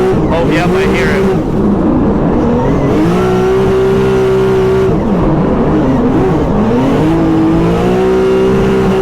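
A race car engine in a racing video game drones loudly and continuously, revving up and down as it drives. The engine slightly misfires, with a rough edge running through the steady roar.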